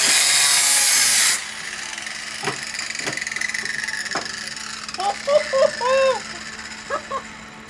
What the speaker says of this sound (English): I just wanted to hit it with a hammer